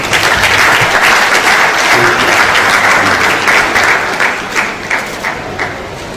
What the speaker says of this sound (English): I will request that we give University of Ibadan a resounding applause